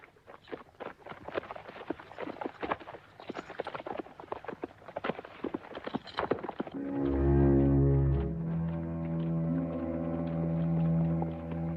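Rapid clip-clop of horse hooves galloping close by for several seconds, then giving way to a loud sustained tonal swell.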